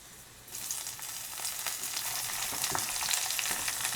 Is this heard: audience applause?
no